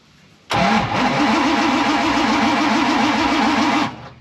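A car engine, a 408W with no spark, cranks steadily for about three seconds with a rhythmic starter churn but never catches, loud and close, then stops abruptly.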